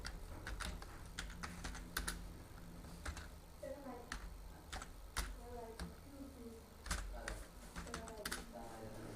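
Keys clatter on a computer keyboard while text is typed into a Word document, in quick irregular bursts of close, crisp clicks with short pauses between runs.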